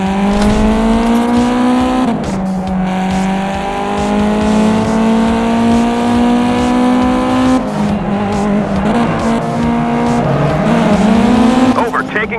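Race cars overtake in the GT Racing 2 mobile game. Engine notes drone loudly and steadily with a sweeping pitch that rises as the cars shift and accelerate, and brief tire squeals mark the passes.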